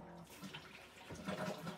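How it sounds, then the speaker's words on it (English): A Kohler Jaro bidet toilet flushes on its own, a soft rush of water swirling and draining, with the gurgle swelling midway and holding to the end of the short burst. "And it just flushed itself."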